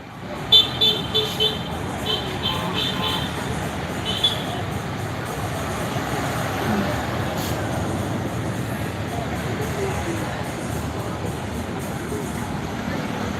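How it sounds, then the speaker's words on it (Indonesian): Motorbikes speed by at night on a street in Sorong, Papua, a continuous traffic roar with a few short horn toots early on and faint background voices. "Bawa motor kencang-kencang semua,"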